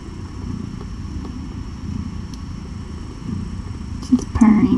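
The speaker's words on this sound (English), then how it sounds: "She's purring." A low, steady rumbling purr from a mother cat close by just after giving birth, continuous throughout, with a few faint higher sounds from newborn kittens near the end.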